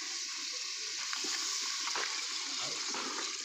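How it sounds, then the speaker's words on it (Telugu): Water is poured into a cooking pot over a spiced, chili-seasoned mixture, giving a short, steady splashing pour that sounds close but fairly soft. "ఇప్పుడు తగిన నీళ్ళు పోసుకుని ఉడకనిద్దాం"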